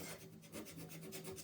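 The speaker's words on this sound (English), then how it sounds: "with the sanding paper, I'm just getting into the white" Sandpaper is rubbed by hand over white-painted wood on rustic furniture, making quick, even back-and-forth rasping strokes, about five per second, soft and close.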